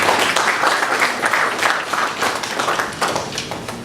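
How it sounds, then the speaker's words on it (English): An audience at a power-sector panel event applauds, a dense, even burst of clapping that holds steady for a few seconds with no speech over it. "A round of applause for Rumunda."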